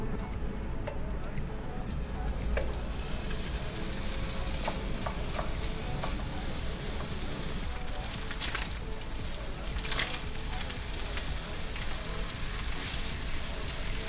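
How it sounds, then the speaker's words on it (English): Slices of Spam frying in a pan for rice dishes, with a steady close sizzle throughout and a few sharper pops and scrapes as it is stirred. "I'm gonna start to cook the spam"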